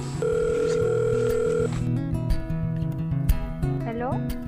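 A telephone dial tone plays as a call is placed, holding steady and fairly loud for about a second and a half before cutting off. Tonal background sounds and other noises continue afterward.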